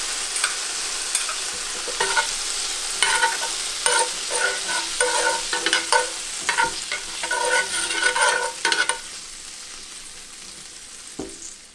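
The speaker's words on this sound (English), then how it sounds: "turn off the heat and add our pat of butter" Butter melting in a hot pan after the heat is switched off, following seared scallops and blistered tomatoes, gives a steady bright sizzle with scattered crackles and pops, close and fairly loud, gradually fading toward the end.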